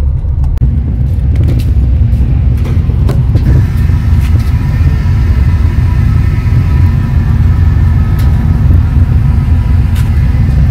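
A truck on a road trip near Lake Baikal, between Kultuk and Ulan-Ude, drives with a steady, loud low engine rumble and road noise throughout. There are a few faint clicks and no talking.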